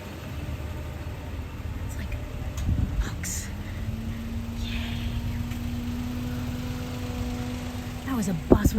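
A bus passes by on a street in Arashiyama, Kyoto, its engine rumbling steadily under background street noise and rising in pitch as it goes by, with faint voices around.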